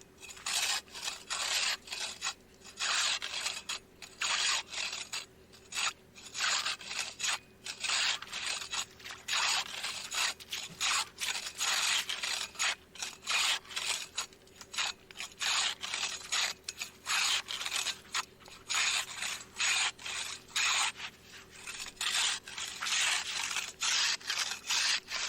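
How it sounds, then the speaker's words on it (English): A hand ice saw cutting blocks from a frozen lake, with steady rhythmic rasping strokes repeating close by for the whole stretch, each scrape broad and gritty, with no talk. "so now I'll use the ice saw to cut pieces out"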